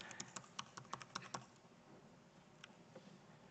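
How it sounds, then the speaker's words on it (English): Quick burst of computer keyboard typing, a rapid run of close, crisp key clicks followed by a pause and a few scattered keystrokes, with no voices. "So she can click on Add New, simply type in design materials."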